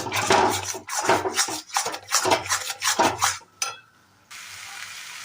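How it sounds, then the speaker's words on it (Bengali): Fish filling with spices being sautéed in a pan for Bengali fish kachori, heard as repeated scraping and stirring strokes of a spatula against the pan with a light sizzle underneath, close and fairly loud, ending in a brief quieter hiss. "আর মশলার সঙ্গে আমি খুব ভালো করে এভাবে কষিয়ে দেবো"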